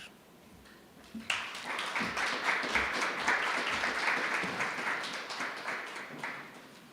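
An audience applauds at a memorial lecture, the clapping starting suddenly after a quiet moment and swelling into a sustained, dense round that holds steady before slowly easing off.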